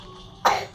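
A single short cough, close and fairly loud, over a low background hum.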